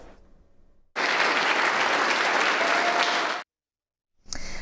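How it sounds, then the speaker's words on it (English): Loud, sustained applause fills a state senate chamber for a returning senator, a dense burst of clapping lasting a few seconds before cutting off abruptly, with a brief return of sound at the end. "State Senator John Hoffman was met with roaring applause upon his return"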